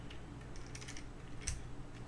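Typing on a custom 75% keyboard fitted with Cherry-profile PBT keycaps, a steady run of soft, close keystroke clacks with one sharper key hit near the end.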